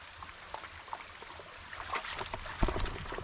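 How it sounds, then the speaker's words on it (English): Owens Creek runs in the Catoctin Mountain woods, a soft steady wash of flowing water with faint splashes and trickles, growing slightly louder near the end. "And this is Owens Creek."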